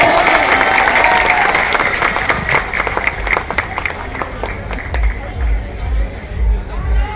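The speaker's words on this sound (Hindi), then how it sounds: "जोरदार तालियां" Audience applause at the Bihar Saras Mela following a BPSC officer's speech, sustained clapping from a crowd with some talk and murmur mixed in, tapering off toward the end.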